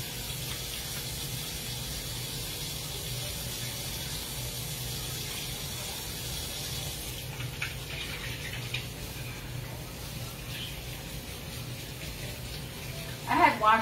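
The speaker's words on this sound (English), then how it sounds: "I'll wash my hands." Tap water runs steadily into a kitchen sink as hands are washed beneath it, a continuous close hiss that shifts slightly midway, ending with a brief clatter.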